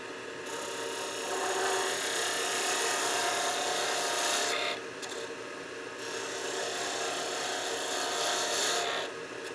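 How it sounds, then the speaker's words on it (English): A tool scrapes and rasps steadily against the end of a wooden handle as it is rounded over, a dense, close hiss that dips briefly midway and then continues. "now I'm going to radius the end of the handle end over just a little more"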